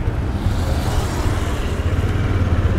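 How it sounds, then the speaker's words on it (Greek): Motorcycle engine drawing near in a steady, close, mid-pitched rumble that grows slightly louder toward the end, with no voices. "Έλα, κι άλλο μηχανάκι."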